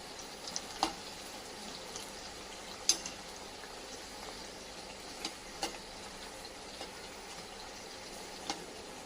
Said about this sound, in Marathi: कसं मस्त ब्राऊन कलर येईपर्यंत तळून घ्यायचे.